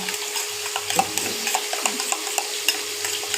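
A batter of cornflour, chili sauce, soy sauce and tomato sauce is stirred in a bowl, making soft, wet, repeated scraping and sloshing strokes that sound close and moderately loud, with no talking.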